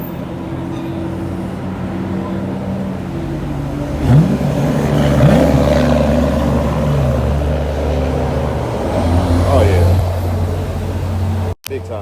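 Steady roar of passing road traffic, with engines swelling and fading nearby and a short exclamation from a voice.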